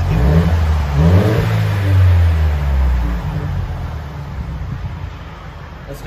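A 2019 Mercedes C300 turbo with dual exhaust and muffler delete revs hard for a few seconds, a loud rising engine roar that then settles back to a quieter idle rumble, with voices faintly in the background.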